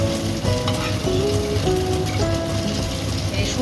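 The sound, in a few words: pan frying momo dumplings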